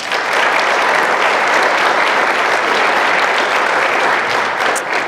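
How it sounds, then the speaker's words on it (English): Conference audience applauding partners at a severe-weather event in New York State: dense, sustained clapping from many hands filling the room, steady for several seconds and tapering slightly at the end, with no speech over it. "Could I ask for a round of applause for our partners,"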